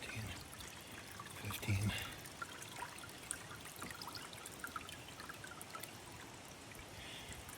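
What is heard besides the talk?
water flowing into a container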